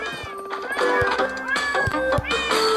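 Crashy Cats video game with projectile cats meowing, a few short bright meows in quick succession over bouncy game music and thumping hits, no talking.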